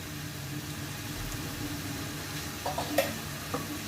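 Cabbage cooked with a fish head is stirred in a pan after sugar goes in, a low steady sizzle with a few soft scraping clinks of the spoon near the end.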